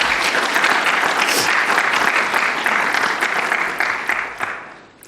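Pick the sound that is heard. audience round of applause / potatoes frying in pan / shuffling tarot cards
audience round of applause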